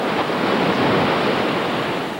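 A flooded creek at night, its water rushing in a loud, continuous broadband roar that stays steady throughout with no voices.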